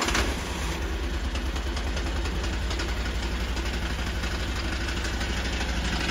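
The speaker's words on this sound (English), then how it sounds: "Now use this lever to start the engine." The engine of a Vigorun MTSK1000 remote-control flail mower catches and settles into a steady, close, low idle with an even rhythmic chug and slight knocking that persists throughout.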